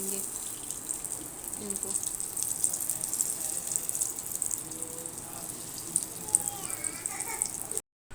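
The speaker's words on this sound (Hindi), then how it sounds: "अब हमने जो ऑयल है गरम हो रहा है, हम उसमें डाल देंगे" Flour-coated vegetable kebabs sizzling in hot frying oil, giving a steady bright hiss that runs throughout, with a voice talking over it and a few small pops toward the end.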